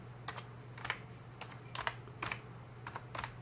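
Keys clack on a computer keyboard as a command is typed at a Raspberry Pi login, several quick bursts of close, fairly quiet strokes separated by short gaps.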